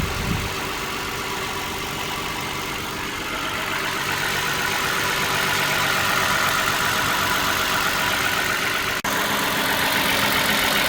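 The engine of a 2013 Toyota Sienna idles during a coolant replacement with a loud, steady, continuous hum and no change in pitch, with one brief click near the end.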